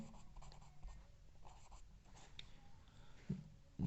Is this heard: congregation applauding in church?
no